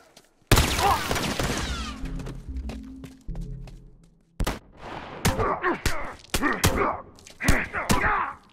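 Shotgun blasts from an enemy in The Last of Us Remastered, a sharp loud boom at the start, then several close, punchy shots in a rapid irregular cluster, with grunts and game noise between.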